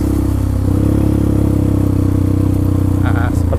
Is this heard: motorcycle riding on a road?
yes